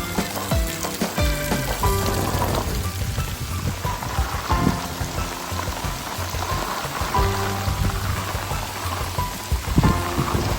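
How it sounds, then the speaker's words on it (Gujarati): Heavy rain with wind lashes a village farm, drops drumming hard and steadily on surfaces nearby, with irregular clatters and splashes layered over a constant dense downpour. "જબરજસ્ત વરસાદ પવન"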